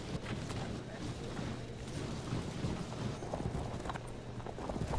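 Horse archers' hooves in a Field of Glory II battle, a dense, busy patter of galloping clip-clop over a low rumble, steady and moderately faint.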